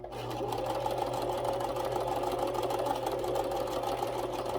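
A sewing machine stitching fabric for a craft project, running in a steady close whir with rapid needle pulsing from start to finish, no talking.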